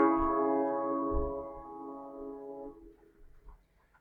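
A simple sustained chord built on a 139 Hz bottom note, played once and left to fade slowly over a few seconds, with faint low thumps underneath.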